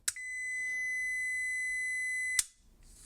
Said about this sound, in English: When this beeps, it's basically supplying the power to the speaker.